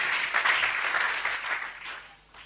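A church congregation applauds together in a loud, sustained burst of clapping that gradually fades, with no talking over it.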